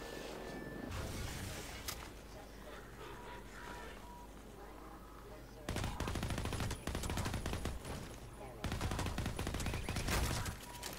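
A shotgun-wielding enemy fires at the player in Half-Life 2 with the MMod mod: two loud stretches of heavy, blasting shots break through quieter in-game ambience.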